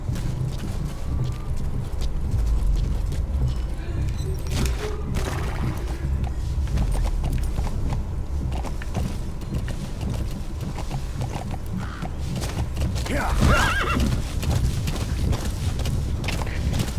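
In Metal Gear Solid V: The Phantom Pain, hooves clip-clop at a steady gallop over a dense, noisy background, with a brief whinny rising near the end.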